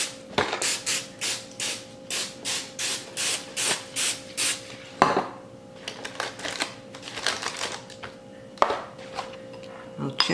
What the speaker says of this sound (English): spray some cooking spray on the inside